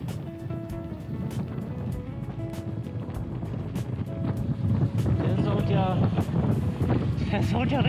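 Strong headwind buffets a cyclist's microphone on a long cold brevet ride, loud rumbling gusts with sharp crackles. A voice speaks over it.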